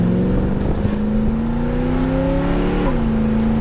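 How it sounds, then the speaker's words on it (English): A 1980 Chevrolet Corvette engine revs up steadily, pitch climbing, then drops briefly as the automatic shifts gear and keeps pulling; loud and close, no talking. "That allows us to rev it out further than how the automatic would normally shift."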